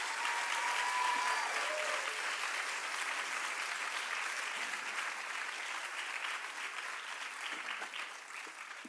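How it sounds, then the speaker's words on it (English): Sustained audience applause after a Bharatanatyam dance performance at an arangetram, a steady dense clapping from a large crowd that holds nearly level for nine seconds with no talking. "Let's give her another big round of applause."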